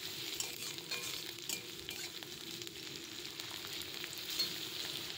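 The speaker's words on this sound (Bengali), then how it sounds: "পেঁয়াজটা একটু লাল লাল যাতে হয় সেরকম ভাজতে হবে পেঁয়াজটা" Chopped onions sizzle steadily in hot oil in a pan, a dense, even crackle with faint stirring scrapes throughout and no voices.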